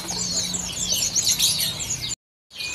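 Grey bulbul (kutilang kelabu) chirping at a busy bird market, a quick run of bright, close calls with other birds twittering around, then a brief silent gap before the chirps resume.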